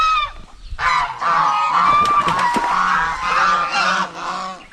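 Geese honking on a farm, a loud flock calling in repeated overlapping honks close by, with no talk over it.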